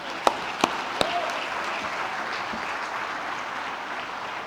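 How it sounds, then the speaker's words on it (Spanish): A church congregation applauds in a steady, dense wash of clapping after a few sharp, distinct claps at the start, heard from within a large room with no voices over it. "Denle un aplauso al Señor,"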